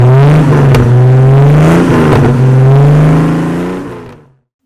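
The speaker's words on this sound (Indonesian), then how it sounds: "Knalpotnya men. Dia pakai Borla dari belakang sampai ke depan." A 1996 Jeep Cherokee Limited with a full Borla exhaust revs loudly and close, a deep throaty engine note rising and holding for several seconds before cutting off to silence.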